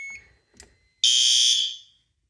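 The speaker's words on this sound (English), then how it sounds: "There's the alarm." A newly installed fire alarm panel sounds during a system test: a loud, steady electronic alarm tone blares for about a second after brief quiet handling noises, then cuts off.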